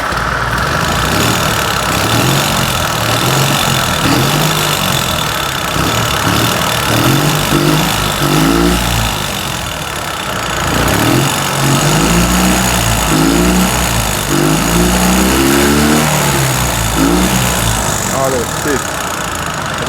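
A Fiat 126p engine runs steadily with a pulsing, throbby idle that loops in an even rhythm, loud and close; someone talks over it at times.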